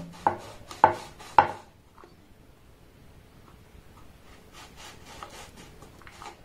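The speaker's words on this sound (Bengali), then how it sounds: "এইরকম একটা ঢাকনা নিয়েছি, এটার মাধ্যমে এইভাবে আমি কেটে নেব" A lid presses through wheat biscuit dough, giving three sharp, close knocks against the board in quick succession, then quiet, with soft scattered taps and rubbing later.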